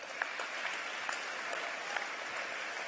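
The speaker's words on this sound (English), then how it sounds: "Give them a round of applause." Applause from an audience at a city celebration honoring a gay men's chorus, a fairly quiet, even patter of many hands with a few sharper claps standing out, continuing throughout.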